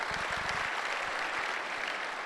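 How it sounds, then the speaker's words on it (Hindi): An audience claps steadily throughout, a dense, even wash of applause at a formal event honouring guiding teachers, with a brief murmur of voices near the start. "एक बार जबरदस्त तालियां हो जाए उनके लिए।"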